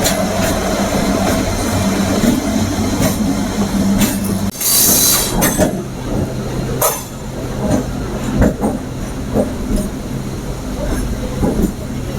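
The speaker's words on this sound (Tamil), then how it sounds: "இப்போ நீங்கள் பார்த்துட்டு இருக்க ட்ரெயின் வந்து நாகர்கோவிலேருந்து கோயம்புத்தூர் போகிற அண்டர்சோட் எக்ஸ்பிரஸுங்க" The Nagercoil to Coimbatore Antyodaya Express, running about an hour late, rolls past steadily, with continuous wheel rumble, clatter over the rails and occasional squealing bursts, loud and close for the whole stretch.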